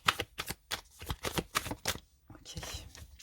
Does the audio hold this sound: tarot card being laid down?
yes